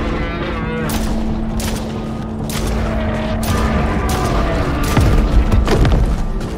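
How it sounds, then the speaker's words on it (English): Gunfire from a weapon in the video game Stray Souls: several sharp shots spaced irregularly over a steady droning game background, growing a little louder toward the end. "I'm gonna try to shoot one of them."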